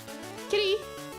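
Jasper, a pet cat, lets out a single short, fairly close meow over a steady low background of voices and sound.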